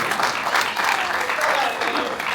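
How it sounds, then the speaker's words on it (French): Audience applause for Sakina, an actress at a film festival screening, a short burst of brisk, dense clapping from the room with some voices mixed in. "Applaudissons pour Sakina."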